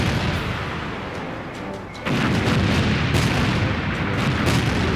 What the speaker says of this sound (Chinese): 是由空军山鹰旅扮演的蓝军正在对红军实施远程火力打击